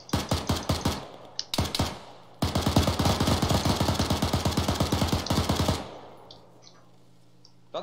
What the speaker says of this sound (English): That's how we shoot in Republika Srpska.